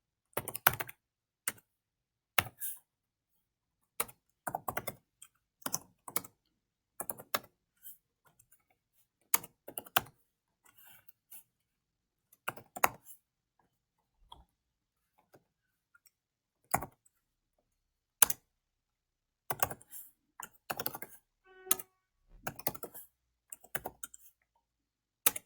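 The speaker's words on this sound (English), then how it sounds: "So I'm just going to type that now." Typing on a computer keyboard comes in quiet, close bursts of crisp clicking keystrokes separated by short silent pauses, with no voice over it.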